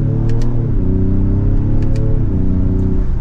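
A 2025 Ford Explorer ST V6 pulls under mild acceleration with a loud, steady engine drone whose pitch climbs, dips at the shift into second gear, then rises again.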